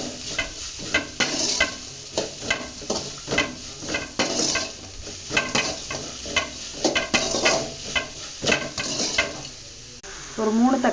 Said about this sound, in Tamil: தேவையான உப்பு போட்டுக்கலாங்க, அப்போ வெங்காயம் நல்லா வதங்கிடும்.